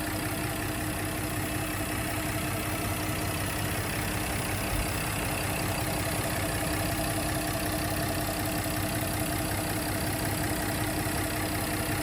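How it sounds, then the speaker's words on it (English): A 2016 Porsche Cayenne engine idles steadily and evenly at close range, a continuous hum with no changes in rhythm or pitch. "nice and smooth running engine, no odd noises or vibrations"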